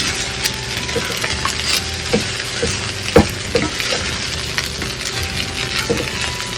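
Prawn and egg fried rice with vegetables being stir-fried in a pan, a steady sizzle under repeated scraping and clinking of a spatula against metal, close and fairly loud throughout.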